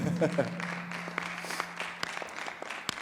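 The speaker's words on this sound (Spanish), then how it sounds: "puedes aplaudir si quieres" Scattered audience applause at a music demonstration, a thin patter of clapping hands that rises after a short bit of talking at the start, with a few sharp individual claps standing out.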